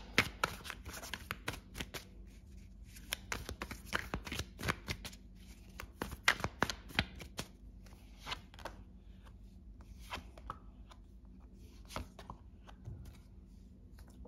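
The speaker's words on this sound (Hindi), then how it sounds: "let's take out few more cards" Tarot cards are shuffled by hand in repeated quick riffling bursts and soft flicks, close and fairly quiet, with no talk.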